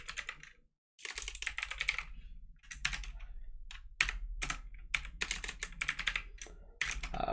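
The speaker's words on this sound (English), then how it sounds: "then I could type this message" Someone types a message on a computer keyboard: close, crisp keystrokes in quick bursts separated by short pauses, with no voices.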